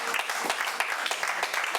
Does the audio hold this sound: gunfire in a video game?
no